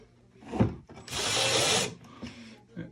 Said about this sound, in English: use these holes we drilled and drill right into the drawer front